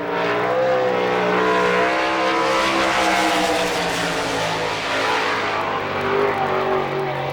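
A sprint car runs a qualifying lap on a dirt track, its engine a loud, sustained high-revving roar that holds steady across the whole stretch with a slight swell near the end.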